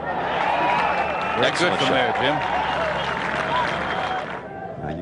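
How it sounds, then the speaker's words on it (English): Golf gallery applause and cheering at the 1988 Westchester Classic after a greenside bunker shot, a broad steady wash of clapping and crowd noise with a commentator talking over it. "The crowd loves it."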